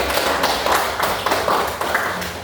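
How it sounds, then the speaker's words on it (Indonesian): Students in a classroom clap together in a short, loud round, uneven hand claps close by with no talk over them. "tepuk tangan dulu untuk"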